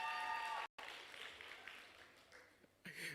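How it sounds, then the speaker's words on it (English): Audience applause at a university research-week colloquium, a faint, distant patter of clapping interrupted by a brief dropout, with a voice breaking in at the end. "let's give Mam Tuli a round of applause for the support"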